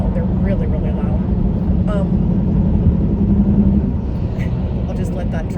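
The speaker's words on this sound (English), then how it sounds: "There are a lot of trucks today, and they're loud." Loud trucks pass outside, a steady heavy low rumble of traffic that runs through the whole stretch beneath continuous talk, easing slightly near the end.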